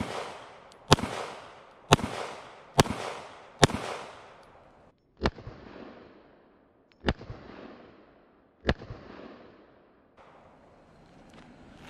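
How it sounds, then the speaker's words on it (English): Seven pistol shots from a Walther PDP with a Holosun optic, a quick group of four roughly a second apart and then three more spaced wider, each a sharp crack with a short decaying echo. "We're just gonna take a few shots with it here with the optic on it, let you guys see it actually fire."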